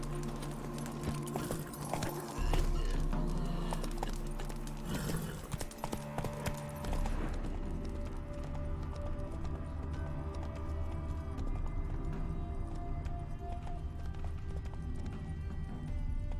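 In The Witcher 3: The Wild Hunt, a horse gallops with rapid rhythmic hoofbeat clip-clops, heavy and close at first and then settling into a steadier trot-like beat over game ambience.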